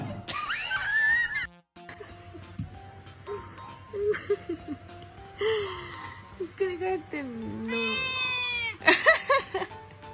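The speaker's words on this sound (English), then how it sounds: "This is a purebred cat. And this is an inbred cat." A purebred cat and an inbred cat meowing in turn, several distinct drawn-out meows and strained, wheezy yowls with short pauses between them, close and fairly loud over faint background sound.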